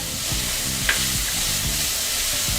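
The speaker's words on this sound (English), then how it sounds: "I am going to add my garlic." Garlic hits hot oil in a shrimp and sausage jambalaya pot and sizzles with a steady crackling hiss, while a spoon stirs with soft rhythmic scrapes underneath.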